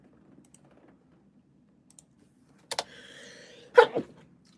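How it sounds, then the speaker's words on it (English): A person with facial piercings sneezes once, a short sharp burst that follows a few soft clicks in a quiet room. "sneezing with piercings is not easy"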